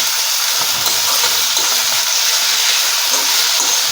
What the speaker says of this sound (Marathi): मेथी हलवून घेऊया